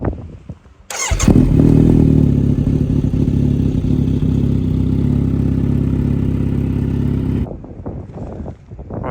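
A Kawasaki Z900RS motorcycle engine drones loudly and steadily during a ride near Sandbanks, starting abruptly after a second and falling away near the end, with no talk over it.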